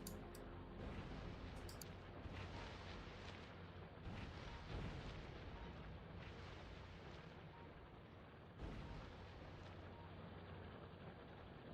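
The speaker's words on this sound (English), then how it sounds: "I can finally destroy trees with one grenade." Grenade blasts in a factory-building video game tear down trees, a dense continuous roar of rumbling explosions with sharper bursts near the start and a fresh blast around the middle, loud and sustained throughout.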